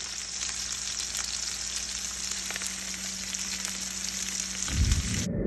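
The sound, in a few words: pork chops searing and sizzling in frying pan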